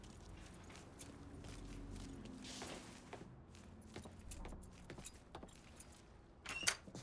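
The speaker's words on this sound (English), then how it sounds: "grab those keys" Keys jangling as they are grabbed in the video game Mafia III, several metallic clinks and rattles with shuffling and faint vehicle noise behind, ending in a sharper jingle.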